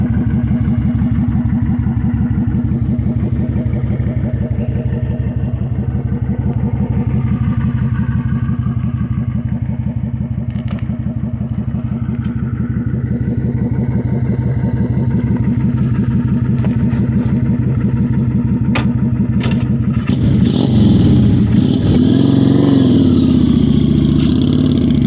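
A Kawasaki Vulcan 900 Custom motorcycle engine runs steadily and loud at close range, a continuous rumble that swells near the end as the rider pulls away on a test drive.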